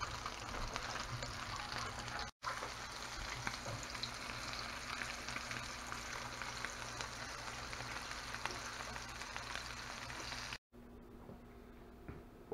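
Salmon croquettes sizzle steadily in a frying pan, a soft, continuous crackle and spit with no talking over it.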